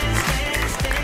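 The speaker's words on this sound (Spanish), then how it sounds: "el aplauso para la señora Silvina Escudero" A studio audience applauds Silvina Escudero, a loud, dense wash of clapping filling the whole brief moment with voices mixed in.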